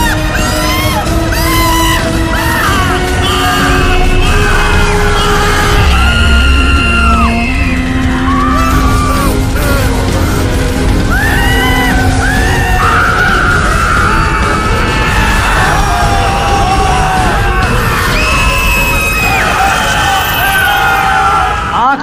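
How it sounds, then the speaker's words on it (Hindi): Dense, continuous chorus of many screaming, wailing and yelling voices, loud and overlapping with bangs, presented as tormented souls crying out beneath the earth. "इस धरती के नीचे करोड़ों सैकड़ों आत्माएं चीख चीख कर चिल्ला रही हैं, तड़प रही हैं"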